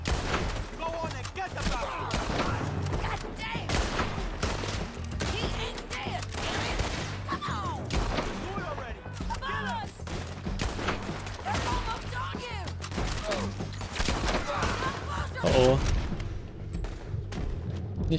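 Rapid bursts of gunfire and booms crackle throughout in the video game Red Dead Redemption 2, dense and continuous, with a voice talking over the shooting.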